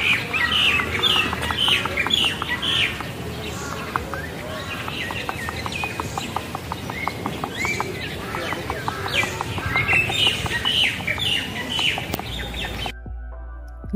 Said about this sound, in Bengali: এখানে আমরা চমৎকার সুন্দর একটা বার্ড দেখতে পাচ্ছি যেটা অনেক সুন্দর করে আওয়াজ করছে